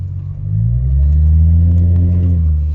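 A Pontiac Solstice engine running, a loud low rumble that swells slightly as it revs, steady and close with no one talking.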